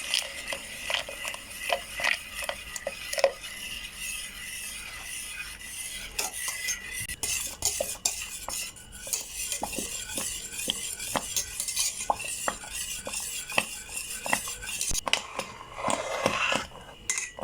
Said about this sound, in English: gradually add in the custard mix and stir continuously until it thickens